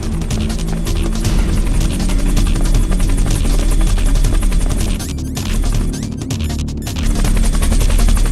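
A Hind attack helicopter in Metal Gear Solid: The Twin Snakes roars with loud, constant rotor and engine noise, mixed with bursts of machine-gun fire and crashing impacts throughout.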